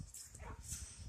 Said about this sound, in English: what everybody wants to hear is a barking dog in their video